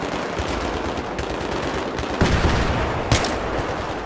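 Rapid bursts of gunfire from hip-fired weapons in the Battlefield 3 video game, a dense continuous rattle of shots with a couple of sharper, louder reports standing out near the end.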